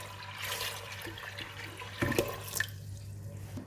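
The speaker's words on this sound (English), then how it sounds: "And I'm going to put in about 2 liters of water." Steady tap water, about 2 liters, pours and splashes into a cooking pot, with a brief clatter of something being set down partway through.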